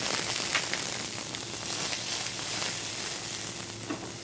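Julienned ginger sizzles steadily in hot coconut oil with green chillies, a soft continuous frying crackle for a Kerala-style fish moilee, with no talking over it.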